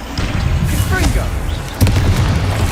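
Confringo blasting spell explosions in Hogwarts Legacy, a deep booming burst near the start and another heavy blast late, over dense combat noise with voices mixed in.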